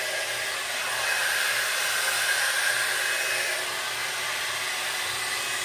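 A Conair Primrose 3-in-1 styler blows hair dry with a steady, loud whooshing motor hum that holds constant throughout, close to the listener and alone.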